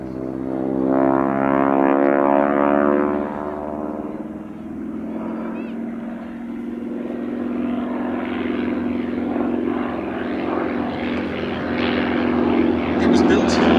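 A Ryan ST-A propeller monoplane flying at the Shuttleworth Season Premiere Airshow 2022, its steady droning engine hum passing at moderate distance, with loudspeaker commentary talking over it throughout.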